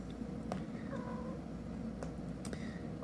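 Kittens meow while being fed, giving several short, faint calls spread across a steady background hum of the room, with no one speaking.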